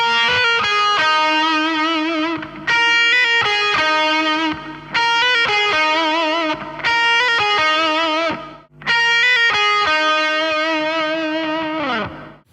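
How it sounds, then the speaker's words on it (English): Distorted electric guitar plays a fast minor pentatonic lick with rapid hammer-on pull-off trills, bright sustained notes in several loud bursts separated by brief gaps, alone and up close. "we're going to play a little hammer-on pull-off trill."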